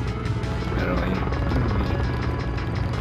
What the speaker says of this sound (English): Doesn't the chopper ping anymore?